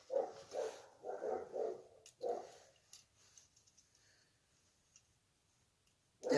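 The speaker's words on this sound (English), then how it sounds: "They don't know what are they barking for." Dogs bark in a quick series of sharp yaps, fairly faint and somewhat distant, then fall quiet, leaving near-silence with a few small clicks.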